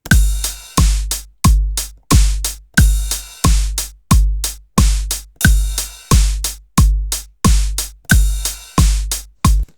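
Keyboard-played ride cymbal strikes on every beat, a steady run of sharp, bright hits each ringing out and decaying before the next, loud and close with no voice.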